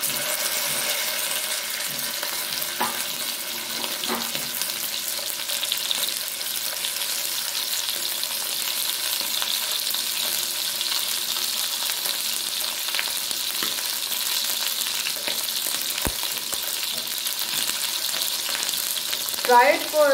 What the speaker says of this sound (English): Fry it for around 3 to 5 minutes on both sides.